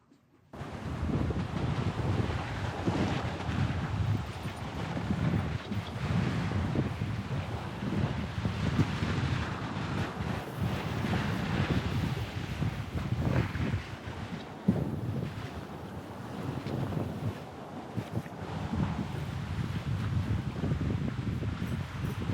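A sailboat sails alone on the open Atlantic Ocean, heavy wind roaring across the microphone and water rushing and sloshing against the hull in a steady wash.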